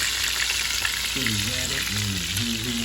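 Rabbit pieces shallow-fry in a little grease with a constant fine sizzle and crackle; a wavering tonal hum rises over the frying partway through.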